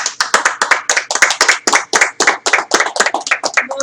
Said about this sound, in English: Most delayed clapping ever.